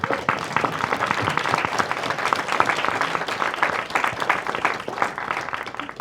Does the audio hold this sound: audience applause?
yes